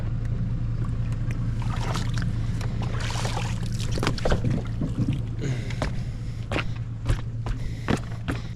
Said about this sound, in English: Trolling motor.